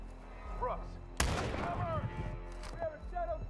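Gunfire in Call of Duty Modern Warfare 2 (2022): a sharp nearby shot cracks out, followed by a scattered echoing burst of further shots and distant reports, with game voices chattering around it.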